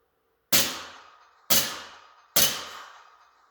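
A SIG pistol with CO2 blowback, fitted with a laser training cartridge, fires three sharp, close snapping shots about a second apart, each crack followed by a brief metallic ringing tail, with no voices.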